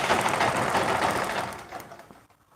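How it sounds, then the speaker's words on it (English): A sewing machine runs a 1/2 inch seam with a fast, even whirring stitch up close, then slows and stops near the end. "I'm stitching with 1/2 inch."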